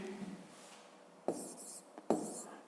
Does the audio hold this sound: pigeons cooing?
no